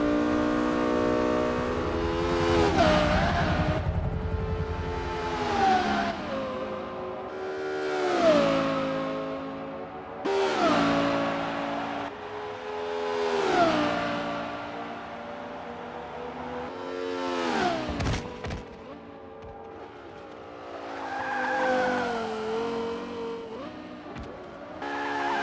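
Race car engines and exhaust in the video game Forza 5 rev up and shift through a series of rising pitch sweeps, each climb cutting off at a gear change, loud and close throughout.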